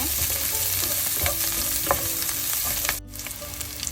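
Pandan leaf, garlic and shallots fry in a pan for tin fish curry, a steady close sizzle with a few stirring scrapes before the hiss suddenly drops and softens near the end.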